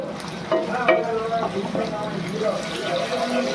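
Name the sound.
stirring and frying onion until soft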